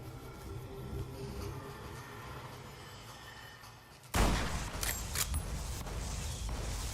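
Gunfire bursts out in Fallout: New Vegas after a low ambient game hum, the loud, dense shots and impacts continuing steadily for the last few seconds.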